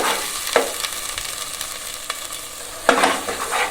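Chicken sizzles as it fries in a pan, with a spatula stirring and scraping it in a few distinct bursts over a continuous hiss, close by and with no voices.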